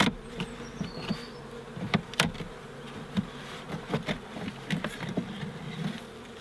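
A honey bee swarm buzzes in a dense, close drone, with individual bees whining past and faint tapping sounds, no voices.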